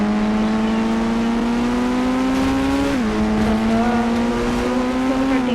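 A Lamborghini engine drones steadily in the video game Indian Bike Driving 3D, holding a constant loud whine with a brief pitch dip midway as the car keeps driving.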